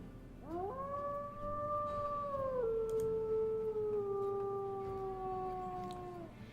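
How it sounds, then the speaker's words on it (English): A single long wolf howl from the WolfQuest video game rises at the start, holds a steady wavering tone, then drops slightly and fades out slowly, heard clearly alone over a low background hum. "let me play his howl"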